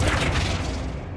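Heavy, dense spell impact from Flipendo in Hogwarts Legacy, a brief loud rumbling blast filling the whole moment with no talk over it.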